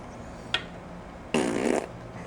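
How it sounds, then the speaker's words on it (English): A grease gun being worked on an old bass boat lets out two fart-like squelches: a short sharp spurt, then a longer wet sputter lasting nearly half a second, close and fairly loud with quiet around them. "I don't think I've ever run the grease gun without making fart noises."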